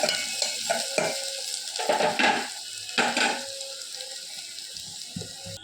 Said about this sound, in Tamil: ஒரு பெரிய சைஸ் வெங்காயத்தை சேர்த்து அதை வதக்கிட்டு வதக்குவோம்